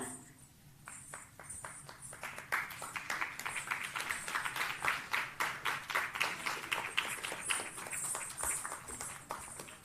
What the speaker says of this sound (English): I think they all need a bigger round of applause